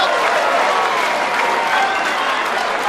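A crowd at the 2011 Darts World Championship breaks into loud, sustained applause, a dense wash of clapping that holds steady throughout without pause.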